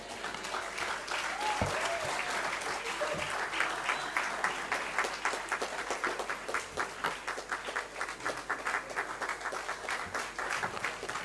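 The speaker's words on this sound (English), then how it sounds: "If you're clapping, you can make it bigger" Sustained audience applause at a formal diplomatic celebration of South Africa–Nigeria relations, dense steady clapping from a large crowd filling the whole stretch at even volume, with faint voices mixed in.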